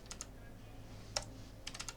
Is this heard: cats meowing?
no